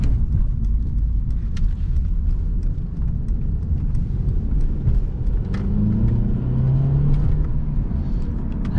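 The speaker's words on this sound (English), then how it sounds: "let's put it into Sport Plus, make this right turn, see how fast we can get up to speed" A Mercedes-Benz C300 4Matic with a 2-liter four-cylinder turbo engine, in Sport Plus mode, pulls out of a right turn. Steady engine rumble and road noise are heard from inside the car, and a rising whine builds toward the end.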